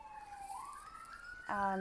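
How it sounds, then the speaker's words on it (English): An emergency siren wails outdoors, rising in a long sweeping tone and then jumping to a louder, harsher blare at the end, heard faintly from inside. "Sorry if you can hear that siren."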